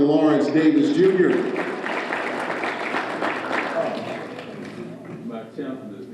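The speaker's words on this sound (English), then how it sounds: "Another round of applause for Dr." An audience claps in applause for Dr. Lawrence Davis, Jr. at a 2012 SWAC Hall of Fame induction, a sustained crowd clapping that fades slightly toward the end, with a speaker's amplified voice over it.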